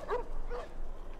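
Wild dogs in the video game The Last of Us give short whimpering yips and soft barks, fairly close and brief.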